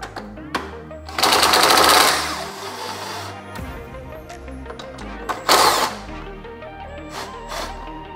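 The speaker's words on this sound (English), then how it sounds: "remove these two 10 millimeter bolts right there" Power tool whirring in bursts while two 10 mm bolts are removed from a car intake on an 11th generation Civic, with short ratcheting runs and a longer loud spin, close by, with light clicks between.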